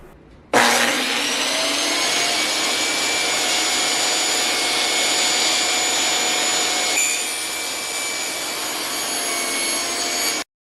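Table saw cutting a table leg on a plywood taper jig: the blade spins up abruptly, then a loud sustained whine and rushing cut runs for about ten seconds, shifting tone partway before stopping sharply.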